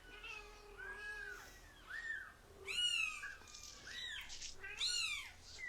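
Several cats meow in turn, a string of rising and falling cries of varied pitch over about six seconds, fairly close and clear with no talking.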